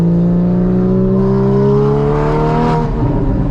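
Porsche Cayman GT4 fitted with a Fabspeed exhaust revving at half throttle, a loud, close, steady engine note rising smoothly in pitch for about three seconds before easing off, with no voices.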